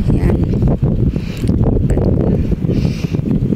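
Strong wind buffets a microphone outdoors in a rural farm area, a steady, loud low rumble with gusty surges throughout, with no clear voices.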